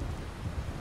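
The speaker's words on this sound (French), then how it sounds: "Toujours l'orage et tout." Thunderstorm in the video game GTA IV, a steady wash of in-game rain with a low rumbling bed, continuous and moderately loud throughout the brief moment, with no speech.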